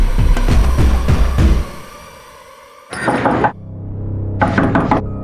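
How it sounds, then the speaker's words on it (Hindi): Knocking on a store room door: a quick run of hard, close knocks, then a pause, followed by two further bursts of rapid banging. "स्टोर रूम का दरवाजा क्यों खटखटा रही है?"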